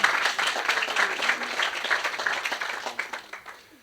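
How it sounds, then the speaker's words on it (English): Audience applause at a startup demo day in Brussels, a dense, steady wash of many hands clapping that carries on evenly, then gradually thins and softens toward the end. "go on, applause."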